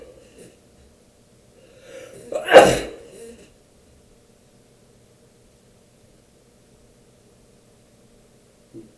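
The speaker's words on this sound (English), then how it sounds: "I want to get rid of my sneeze." A single person sneezes once, a short sharp burst preceded by a breathy intake, in an otherwise quiet room.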